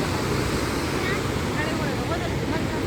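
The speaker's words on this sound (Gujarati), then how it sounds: "એકદમ ખૂબ જ સ્પીડમાં આ પાણી આવી રહ્યું છે નર્મદાજીનું." Rushing water of the Narmada river pours through Dhuandhar falls, a steady, dense roar that fills the whole moment without a break, loud and close.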